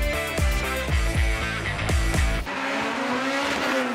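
A race car spins out during a gymkhana grid event at an airport course, its engine revving hard with rhythmic pulses before shifting into a sustained, loud tire squeal as it slides.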